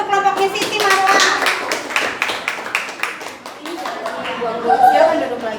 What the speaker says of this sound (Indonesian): Tepuk tangan untuk kelompoknya Siti Marwah.